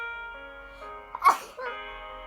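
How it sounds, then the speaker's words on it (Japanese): A single sharp sneeze bursts out near the middle, close and abrupt, over a quiet steady musical background. "くしゃみ出る。"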